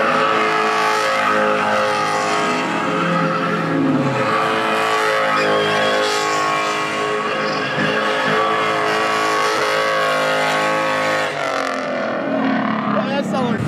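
Loud Infiniti G35 engine revving hard at a car meet, a dense continuous roar with shifting pitch filling the whole stretch close by, with people talking and shouting over it.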